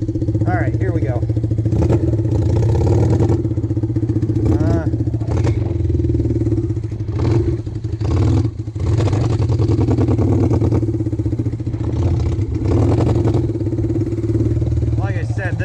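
A 1974 Honda CL200 motorcycle ridden on a road, its engine droning steadily close by with rising and falling revs, wind buffeting and a few clattery bumps, and a rider talking intermittently over it.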